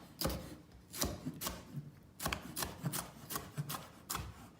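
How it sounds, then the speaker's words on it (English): A knife chopping the bases off green onions on a cutting board, a series of crisp close strikes in an uneven rhythm, with no talking. "For the green onions, you just wanna cut the bases off"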